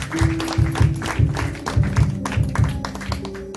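Congregation at a midweek church service clapping in a steady rhythmic beat, loud and close, with regular heavy thumps like drum or hand percussion and a sustained musical tone underneath.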